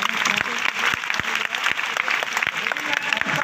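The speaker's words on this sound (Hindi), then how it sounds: "इस उत्तर के लिए ताली बजाओ।" Audience applause at a Hindi-language talk or lecture: a dense, steady patter of many hands clapping at moderate loudness, with a few sharper individual claps standing out throughout.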